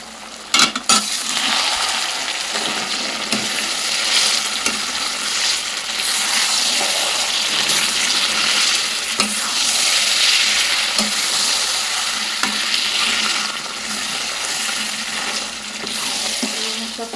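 A bottle gourd mixture for a rice cake is stirred in a hot pan, with a continuous close sizzle broken by repeated scraping and clacking of the spoon against the pan, and a few sharp knocks at the start, without speech.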